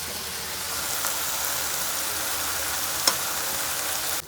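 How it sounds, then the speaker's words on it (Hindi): Burger buns fry in a pan for a homemade tikka burger, producing a soft, even, steady sizzle with one brief sharp tick near the end. "इधर हमारे बन भी फ्राई हो रहे हैं"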